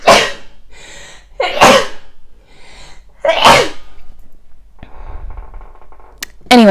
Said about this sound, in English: and I'm gonna sneeze.